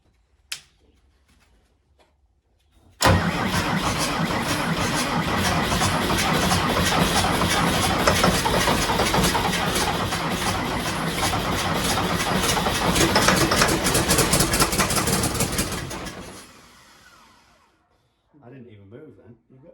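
A Ford 8700 tractor's 270hp engine catches after a brief pause and runs loud and close with a dense, rough rumble for about thirteen seconds, then winds down, with voices faintly after.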